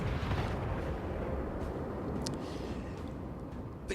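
Heavy naval gunfire rumbles continuously from a warship in a naval combat video game, its deep low booms rolling together into a dense, loud barrage that thins slightly toward the end, with a few brief sharp cracks on top.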